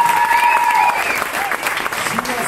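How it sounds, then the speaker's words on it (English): Loud, dense applause fills a Grease cast cabaret audience, with whoops and cheering voices rising over the steady clapping throughout. "a big, big, big, big round of applause for our fabulous"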